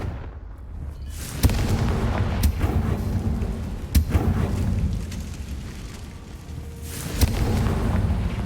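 Fire-spell blasts in the Hogwarts Legacy video game, heard as a few sharp booming bursts over a steady low rumble of game ambience, with no talking.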